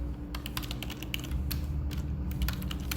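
Fast typing on a computer keyboard, with many close, crisp key clicks in an irregular rhythm over a low steady hum.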